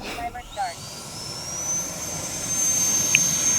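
An FMS Scorpion 90 EDF model jet with an 8S power setup whines through a loud, sustained high-pitched ducted-fan roar at takeoff. The pitch climbs steadily and holds near and strong.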